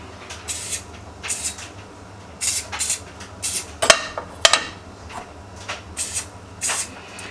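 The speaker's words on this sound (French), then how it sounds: "Et on va venir aussi graisser nos petits moules." Small crumpet moulds greased with oil spray: a series of short, close hissing bursts about once a second, with a couple of sharp metallic clicks in between and no voices.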